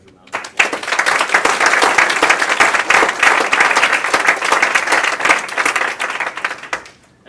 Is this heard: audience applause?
yes